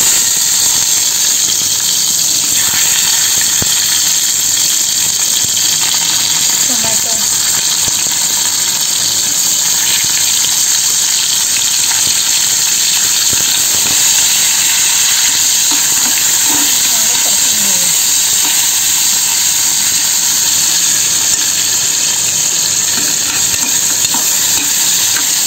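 Onion fries in hot oil with bay leaf, cloves, cumin and cardamom, a loud, continuous close hiss and crackle with occasional stirring sounds throughout.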